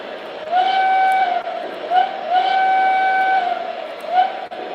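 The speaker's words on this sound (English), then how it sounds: "You get a little whistle for you here, a little CC2 action." A train whistle sound effect plays on a model railroad livestream: several loud, sustained steam-whistle blasts in a repeating pattern of long and short toots, with no talk over them.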